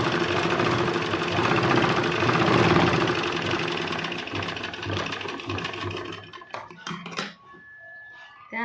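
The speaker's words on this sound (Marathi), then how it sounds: "याला अर्धा इंच घालून शिलाई मारून घेऊया।" A sewing machine runs steadily for about six seconds while stitching a blouse lining with a half-inch seam, then stops, leaving a few handling clicks and a faint hum.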